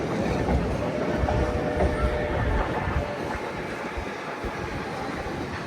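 Steam locomotive 2102 pulls a passenger excursion train out of Tamaqua station in Pennsylvania, giving a loud, close, continuous rumble with rhythmic clickety-clack of the wheels and a faint squeal.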